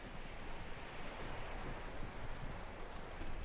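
Horse hooves clip-clopping in the video game Red Dead Redemption 2, a faint, steady walking rhythm over rustling background noise.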